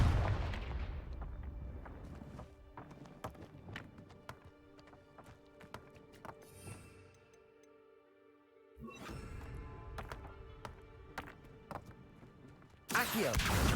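Confringo explosive spells cast in the Hogwarts Legacy video game: a long series of sharp blasts and impacts with cracking transients, a brief quieter lull in the middle, then a loud burst erupting at the very end.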